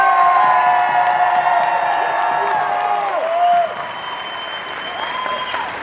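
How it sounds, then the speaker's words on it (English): Loud, sustained applause from a large convention crowd at FanX 2024 for Mel Gibson, with some cheering, gradually easing a little toward the end. "can you please give a huge round of applause"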